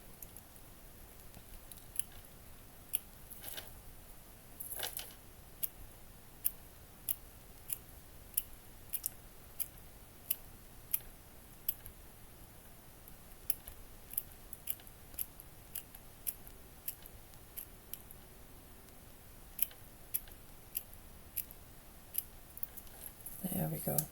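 Scissors snip repeatedly at material for a cat cafe garden room box miniature, a steady series of small crisp cuts throughout, fairly quiet and close, with faint background noise.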